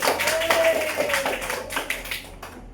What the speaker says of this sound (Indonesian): Tepuk tangan untuk Bung Istri